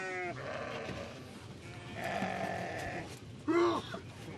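Sheep and goats bleat in the Omani desert, several calls overlapping at middling distance, with one louder, closer bleat near the end over a steady outdoor background.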